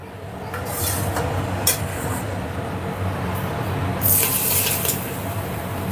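Hot oil is poured into a pot of chicken dum biryani, giving a steady hissing, splashing pour with a few sharper sizzling bursts along the way.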